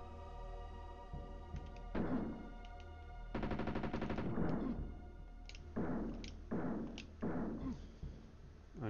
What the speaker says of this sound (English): I'm just wasting so much ammo.